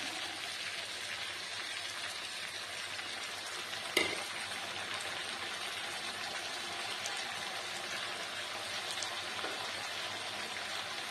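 Tomato and green chili dropped into a pan of frying winter vegetables such as potato, beans, eggplant and kohlrabi, giving a steady soft sizzle with one sharp clack near the middle, faint and without talk.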